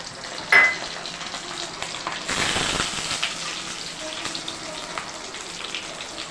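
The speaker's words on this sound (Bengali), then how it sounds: "পেঁয়াজ ভাজা প্রায় শেষের দিকে। এখন এখানে দিয়ে দিব আদা রসুনের পেস্ট," Onions frying in a pan ahead of ginger-garlic paste going in, a steady soft sizzle throughout with a brief sharp clatter near the start and a louder burst of hissing about a third of the way in.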